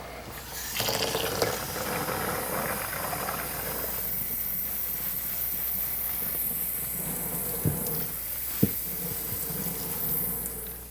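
Antique moss stuffing being rinsed under running water on a screen: a steady splashing, gushing stream with occasional soft knocks and drips, continuous and close, no talk.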